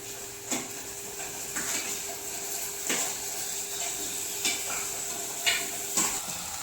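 Ridge gourd pieces with onions and green chillies frying in a pan, a steady soft sizzle broken by intermittent scraping stirs of a spatula against the metal.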